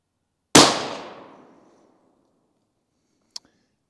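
A single sharp, loud rifle shot from an Accuracy International AT-X chambered in 6BR with a brand-new barrel cracks out and rings off in a decaying tail, followed by a faint metallic click a few seconds later.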